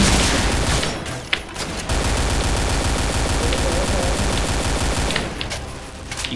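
An AK47 fires in a shooter game, sustained rapid automatic bursts that are loud and close, with a brief break and sharp single cracks near the end, and no talk over them.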